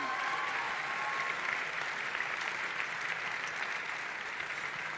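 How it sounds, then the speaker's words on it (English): Audience applauding a Q&A panel, a dense, even wash of clapping that holds steady for the whole stretch, heard from within the room with no voices rising over it. "Can you guys just give a huge round of applause for our panel?"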